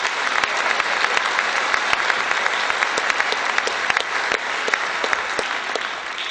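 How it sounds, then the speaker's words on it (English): Concert audience at a symphony orchestra event giving a steady round of applause, dense clapping from many hands holding at an even level throughout without voices. "Please give them a round of applause."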